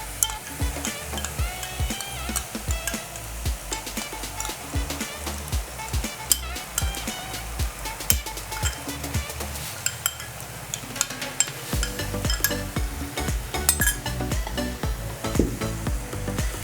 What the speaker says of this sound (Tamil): பேஸ்ட் ஆட் பண்ணிட்டு ஒரு 1 மினிட்டுக்கு நல்லா கொஞ்சம் ஃப்ரை பண்ணலாம்.